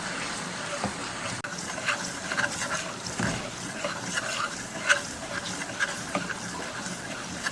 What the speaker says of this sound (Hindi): तकरीबन प्याज को फ्राई करते हुए 4 मिनट गुजर चुका है।